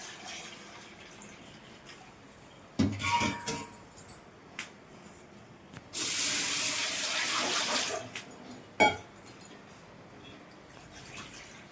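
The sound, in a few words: pouring water into a pot with a bowl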